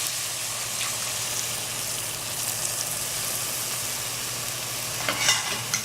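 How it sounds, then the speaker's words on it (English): Cream sauce with cooking cream, evaporated milk and cream cheese for chicken and shrimp Alfredo being stirred in a pan over a soft continuous sizzle, with light scraping clicks and a few louder knocks near the end. "Stir that around again"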